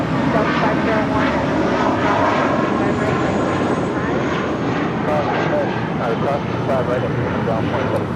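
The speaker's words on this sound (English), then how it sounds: "That is Volaris Flight 923 departing to Zacatecas on an A320." A Volaris Airbus A320 departs LAX, its engines roaring steadily and loud for the whole stretch, with a broad, constant jet rumble and no pauses.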